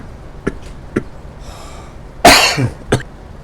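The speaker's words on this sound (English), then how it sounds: "Pardon me, that nasty cough I have." A man coughs outdoors during a rye harvest: two short dry coughs, then a louder, harsher, drawn-out cough and one final short one, all close to the microphone against a quiet background.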